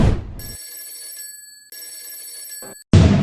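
A telephone rings in two long electronic trill bursts separated by a pause, loud and close, with a brief noise before and after.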